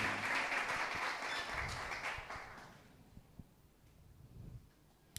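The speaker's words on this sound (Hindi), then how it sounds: "मानते हैं तो ताली बजाएंगे अपने प्रभु के लिए।" A congregation applauding during a church service, loud sustained clapping that tapers off after a few seconds into quiet room noise with a few scattered claps.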